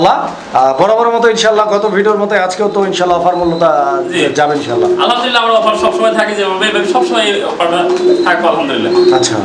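Fancy pigeons at a pigeon seller's in Gazipur coo in a dense, overlapping chorus, with repeated throaty calls close by that continue without a break.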